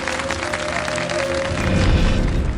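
A studio audience at a Ramadan television show claps steadily in a dense, loud wash of applause that swells slightly toward the end.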